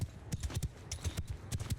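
Horses clip-clopping in the game Mount & Blade II: Bannerlord, a steady run of close, loud hoof thuds in uneven clusters while cavalry mills among infantry, with faint battle noise under the hooves.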